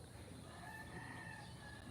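A farm rooster crows faintly at a distance, a drawn-out call half buried in steady outdoor background noise.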